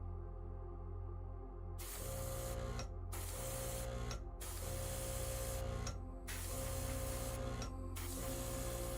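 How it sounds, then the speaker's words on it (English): An airbrush sprays paint onto a hobby model, a steady close hiss that runs almost continuously with short pauses as the trigger is released, over a constant low compressor hum. "But you can see how easy it is to airbrush, guys."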